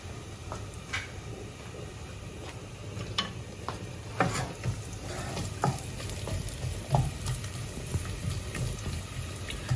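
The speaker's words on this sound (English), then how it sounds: "I like to hear that sizzling sound that lets me know that this is cooking well." Onions crackle and sizzle in hot palm oil for okra soup, with scattered pops and stirring sounds over a steady frying hiss, close up.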